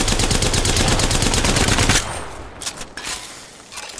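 Gunfire in the video game Apex Legends: a loud, rapid automatic burst hammers nonstop for about two seconds, then cuts off to a few scattered, fainter shots and background game noise.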